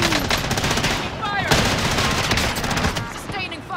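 Sustained automatic gunfire from the Battlefield 6 video game rattles on without a break, loud and dense, with faint voices underneath.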